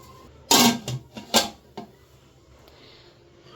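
A lid clanks onto a cooking pot of mutton for kabuli pulao: one loud metallic clatter, then a few lighter rattles and taps as it settles, close by in a quiet kitchen.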